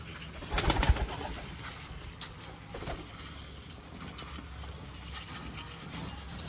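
Pigeons coo softly nearby amid rustling and scuffling sounds, with a brief louder burst of fluttering near the start.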